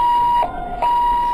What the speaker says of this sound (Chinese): 救护车拢有鸣笛